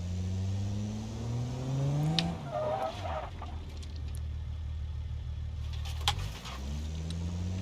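A car engine in BeamNG video game drones and revs steadily, with tire skids as the driver pulls handbrake turns, the engine pitch dropping and climbing again.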